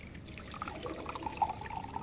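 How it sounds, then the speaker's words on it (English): A glass slowly filled with water at a sink, a close, gentle trickle with small rhythmic drips rising toward the end. "he approaches the sink, where he fills a glass with water, creating a rhythmic sound"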